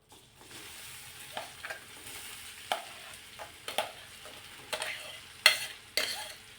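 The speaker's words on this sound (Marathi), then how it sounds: "संपूर्ण हे सारण आपल्याला ह्यात काढून घ्यायचं आणि व्यवस्थित असं परतायचं आहे." Pea stuffing for matar kachori sautés in hot oil, a soft background sizzle punctuated by repeated scraping and clacking strokes of a spoon against the pan.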